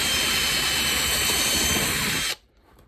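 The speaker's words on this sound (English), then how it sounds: "I'm just going to run the drill straight through." A power drill runs loud and steady for over two seconds as it bores through a model railroad control panel, then cuts off abruptly into quiet.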